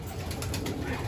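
Racing pigeons at a loft landing board, with soft bird cooing and faint wing and ambient noise heard steadily through a brief moment, no voices.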